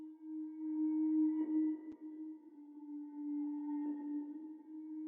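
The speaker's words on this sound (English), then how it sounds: "So for this bell I actually reversed it" A reversed bell drenched in heavy reverb and chorus with the lows cut hums as a steady, dark, droning tone, swelling softly twice in a slow build, faint and alone.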